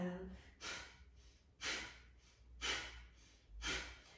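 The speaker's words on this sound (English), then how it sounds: "Already start to pump the exhale." Four forceful pumped exhales through the nose during a yoga breathing exercise, each a sharp loud burst roughly a second apart with quieter breath between, close and clear in a quiet room.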